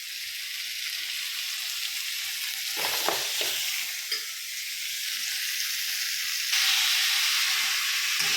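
Onions and tomatoes for egg masala fry in a pan with a steady, loud sizzle, interrupted by a few stirring scrapes, and the hiss swells louder near the end; no one speaks.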